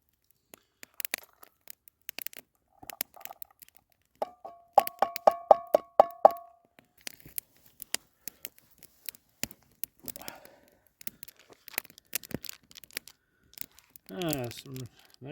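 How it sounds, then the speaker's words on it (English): A small substitute knife cuts onions at a solo overnight camp at Elbow Lake, giving sparse, close, crisp slicing and tapping clicks, with a faint tonal clink midway and a brief rustle near the end. "This one's doing alright, but having to cut my onions funny."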